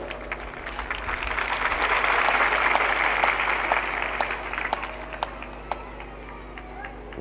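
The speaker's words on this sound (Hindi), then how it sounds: "ताली भी थोड़ा जोर से बजाया करो।" An audience at a spiritual discourse claps together, the applause swelling to a broad, loud wash of many hands and then thinning into scattered claps that fade toward the end.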